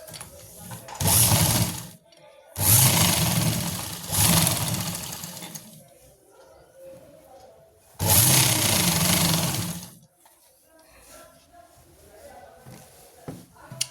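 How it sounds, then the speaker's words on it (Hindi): Sewing machine running straight stitches on a narrow salwar, with loud mechanical bursts of about two seconds separated by pauses and quieter handling. "यहाँ से हम सीधी सिलाई लगा देंगे।"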